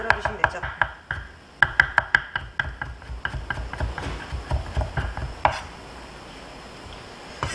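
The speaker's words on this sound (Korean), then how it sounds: "피클도 곱게 다져줍니다." A knife finely chopping pickles on a cutting board in quick, uneven bursts of sharp taps, close and crisp, then pausing near the end.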